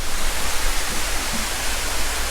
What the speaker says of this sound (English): Lovely little waterfall.